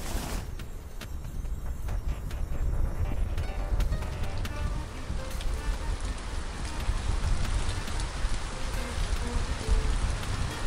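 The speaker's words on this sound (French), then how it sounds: "La météo dans ce secteur vient de changer et ne devrait pas tarder à pleuvoir." Steady rain falling as an audio drama sound effect, a dense continuous patter of drops with scattered sharper taps, moderately loud and even throughout with no voices.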